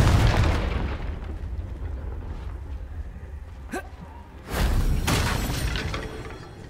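Confringo blasting spell in Hogwarts Legacy: a booming blast opens, a sharp crack follows midway, then a second broad explosion with a rumbling tail, set against continuous game background noise.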